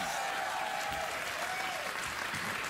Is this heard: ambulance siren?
no